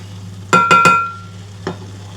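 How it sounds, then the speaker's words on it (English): Spoon stirring lemon drizzle syrup as it reduces in a pan, three quick ringing metallic scrapes and clinks against the pan followed by one lighter tap, close, over a low steady hum. "I'm going to give it a little stir"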